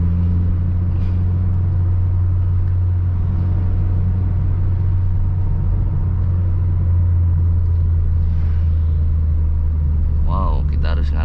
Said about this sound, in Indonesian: Jadi ya udah kita angkat kopling sambil injak gasnya kayak gitu ya.